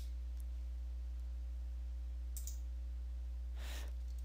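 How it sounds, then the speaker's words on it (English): A single sharp computer mouse left click on a Windows 10 PC, crisp and close, heard alone over a faint steady hum, with a brief softer tick earlier. "You want to left click on that."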